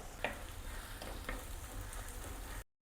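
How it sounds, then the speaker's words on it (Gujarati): Spices and red chili sautéing in oil in a pan, a close steady sizzle broken by a few sharp crackles and stirring scrapes, which then cuts to silence near the end. "તો એ બધું થોડી એની કચાશ દૂર થઈ જાય ત્યાં સુધી આપણે એને સોતળી લઈશું."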